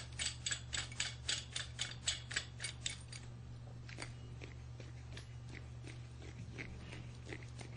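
A steering gear puller screw is turned in against a clutch slave cylinder piston, giving a quick run of rhythmic ratcheting clicks for about three seconds, then quieter scattered ticks over a steady low hum.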